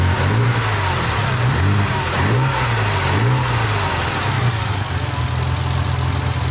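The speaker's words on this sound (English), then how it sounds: "that's how the car engine sounds." A BMW E28 528 with a stock exhaust runs steadily, a continuous engine drone with a low rhythmic pulsing and gentle rises in pitch, loud and close throughout.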